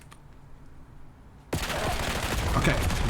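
Rapid bursts of gunfire in the Black Ops 7 video game break out abruptly after a quiet lead-in, loud and dense with overlapping shots continuing to the end.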